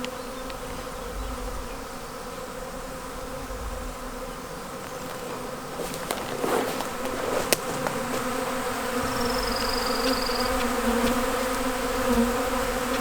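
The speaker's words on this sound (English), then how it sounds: "you can probably see the bees flying big circles all around" A swarm of bees circles around a hive in a bee yard, a steady, close buzzing drone that holds throughout, with a few faint knocks and an individual bee passing near.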